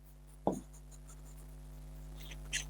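Pen or chalk strokes for an electrostatics lesson, a brief scratchy writing burst followed by quiet steady hum and a couple of faint later scrapes, no voices.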